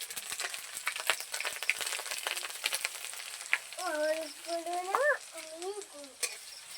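Ginger paste and turmeric powder fry in a pan, giving a crackling sizzle with spatula scrapes, and a short voice comes in partway through.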